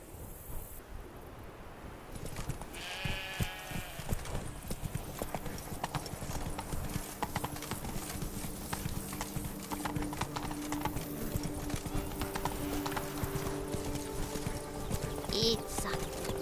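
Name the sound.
horse hooves clip-clopping while riding in video game Witcher 3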